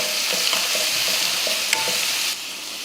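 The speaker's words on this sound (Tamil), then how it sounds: "நம்ம துருவி எடுத்துருக்கோம் இல்லையா சவுச்சோ அதையே சேர்த்துடலாம் சேர்த்துட்டு கலந்துருவோம்" Grated chayote stirred into sautéed onions in a hot pan, a steady close sizzle with soft scraping strokes of the spoon recurring throughout and no talking.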